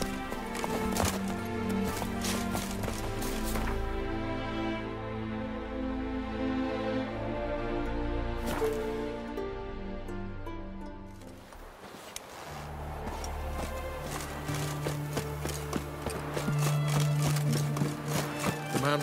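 Hooves of Geralt's horse Roach clip-clopping at a run in The Witcher 3, steady galloping rhythm over a game soundtrack with brief voices, easing midway then resuming.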